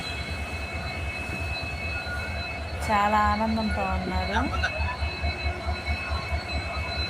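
A train at a village station gives a sharp metallic wheel squeal lasting about two seconds amid a low rumbling hum, while a voice speaks over the scene.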